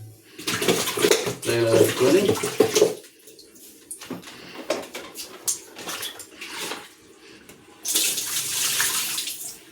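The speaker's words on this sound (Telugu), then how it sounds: "మళ్ళీ ఇంకోసారి వాటర్ పోసి" Water splashes as it is poured into the filter housing of an Aquaguard water purifier during service cleaning, in two short bursts at the start and end, with someone talking between them.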